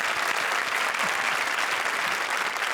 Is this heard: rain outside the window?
no